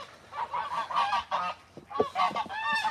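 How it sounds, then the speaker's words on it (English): A goose on a farm honks in a rapid series of loud, nasal calls, several bursts close together with short pauses between, heard up close with no talking over them. "Nasty little goose."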